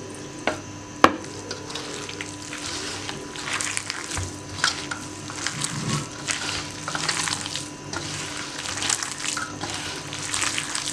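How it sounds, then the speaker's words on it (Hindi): Water is poured into a gram flour batter and stirred, a close, busy wet mixing sound with soft sloshing and clinks running steadily throughout, and no one talking. "और थोड़ा सा पानी और डाल दें।"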